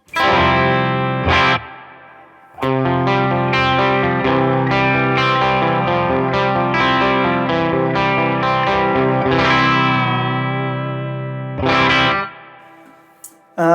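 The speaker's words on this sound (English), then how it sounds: "let's add some of this reverb here." Electric guitar through a Tone King Imperial amp plugin with added reverb and tremolo, playing sustained chords and melodic phrases loud and close, with brief pauses and ringing reverb tails.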